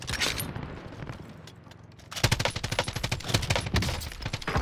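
A PKM light machine gun firing in Modern Warfare Warzone, long rapid bursts of loud, rhythmic shots close up after a short quieter lead-in.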